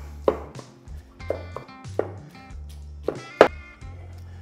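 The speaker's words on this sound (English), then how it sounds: "Just gonna take my cleaver, chop this up a little bit." Smoked meat being chopped with a cleaver on a board: five or six firm, hollow thuds at uneven intervals, close and fairly loud, with no talking.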